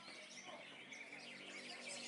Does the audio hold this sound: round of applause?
no